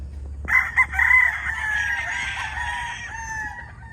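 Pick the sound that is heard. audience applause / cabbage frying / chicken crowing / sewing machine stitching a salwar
chicken crowing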